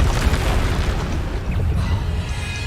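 Booming blasts of the Bombarda explosion spell in Hogwarts Legacy, loud, dense and continuous rumbling bursts with no talk over them.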